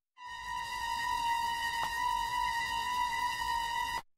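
A pitched-up trailer tone driven through Soundtoys Decapitator distortion holds steady and gritty with a strong buzzing harmonic edge for about four seconds, starting abruptly and cutting off cleanly.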